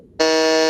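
A loud, steady electronic debate buzzer sounds once, cutting in abruptly and holding a harsh tone close up, with no talking over it.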